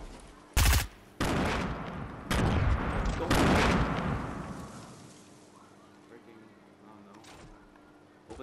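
Rapid bursts of gunfire from the Fortnite video game arrive as loud, close volleys that tail off into quieter rumbling, and a player talks over them.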